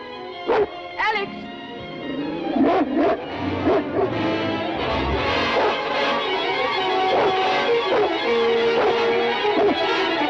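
A spaniel barks and whimpers close by, sharp yips and whines recurring throughout while voices talk over it.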